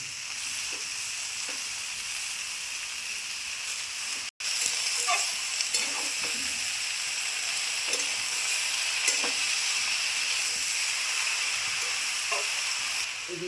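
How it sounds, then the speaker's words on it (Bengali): Spinach frying in a pan with panch phoron, dried chillies and green chillies: a continuous soft sizzle with occasional stirring clinks, close and steady, with one brief dropout partway through. "শুধু পাঁচ ফোড়ন শুকনো লঙ্কা কাঁচা লঙ্কা এই যে শালটা দিয়ে দেবো"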